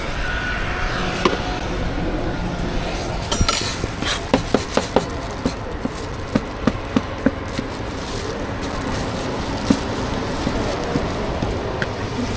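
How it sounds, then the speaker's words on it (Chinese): A knife chops egg on a board at a street food stall, a string of sharp, irregular taps over steady background noise of the busy stall. "我拿那个鸡蛋也切碎点啊"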